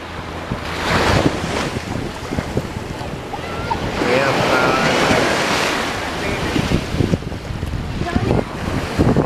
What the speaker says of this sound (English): Hopefully you guys can still hear me through the crashing of the waves.